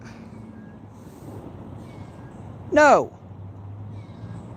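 A feral cat near a fishing spot gives one loud, close, rising-and-falling meow partway through, over a steady low background hum, and a person says a brief word.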